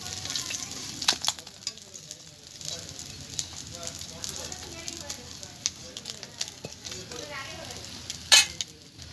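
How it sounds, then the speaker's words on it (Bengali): Bhola fish pieces being lifted out of hot frying oil: a steady crackling sizzle throughout, with occasional sharp metal clinks of the utensil against the pan, the loudest near the end. "মাছটা ভাজা হয়ে গেছে, আমি তুলে নিচ্ছি।"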